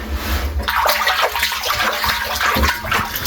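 A well's water gushes and splashes steadily, loud and close, a continuous churning rush with uneven surges and no voices.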